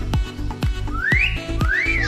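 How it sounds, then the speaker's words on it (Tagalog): Bright whistling at a crocodile farm in Palawan: rising and falling sweeps, two long upward glides, over a rhythmic backing of repeated low thumps, close and fairly loud with no talking. "Galing mong sumipol ah!"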